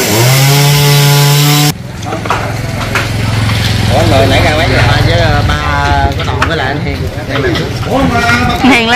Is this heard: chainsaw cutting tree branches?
yes